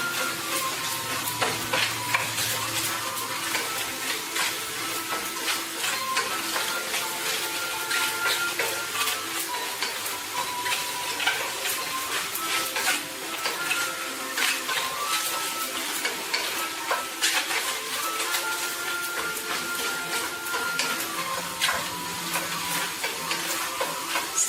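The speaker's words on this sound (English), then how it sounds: "since it's gonna take about 6 to 8 minutes to cook, you want to start stirring." Jerk shrimp fry over a high flame in a pan, sizzling steadily while being stirred, with frequent scraping and clacking of the utensil throughout, close and continuous, without speech.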